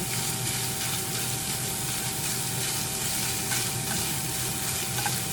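Chunks of kielbasa sausage for gumbo fry in a pan with a loud, dense, unbroken sizzle close by, and occasional faint stirring clicks.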